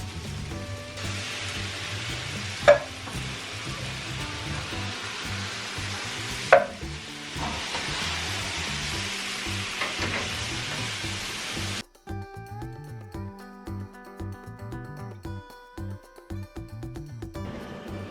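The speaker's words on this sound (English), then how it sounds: "now I'm going to add in 2 cans of tomatoes and juice." Canned tomatoes with their juice go into a sizzling pork sausage ragu, making a steady wet crackling hiss broken by a couple of sharp knocks. The frying then drops out, leaving quieter, scattered clatter.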